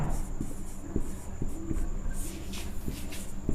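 Pen or pencil writing out a pair of linear equations by hand, with short scratchy strokes and a few sharp taps against the surface, close and fairly quiet, with no talking.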